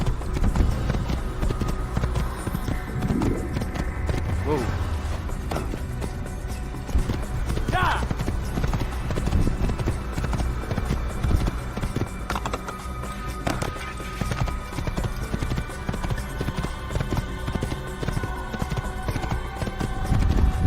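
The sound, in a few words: horse galloping in the video game Assassin's Creed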